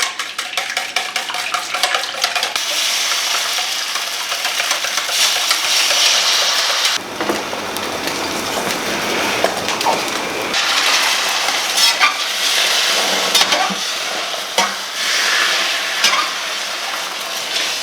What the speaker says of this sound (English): just want to whisk your eggs now